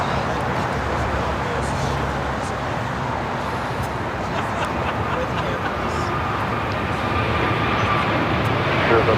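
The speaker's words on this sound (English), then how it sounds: "740 taking off to Doha on the A350 1000" Qatar Airways Airbus A350-1000 jet taking off at LAX, a steady broad engine roar holding for about nine seconds with no clear rise or fade, voices talking faintly underneath.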